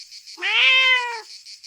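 A digital cat in the video game Minotaur gives a single clear, drawn-out meow, loud and close, rising and then falling, with nothing else underneath.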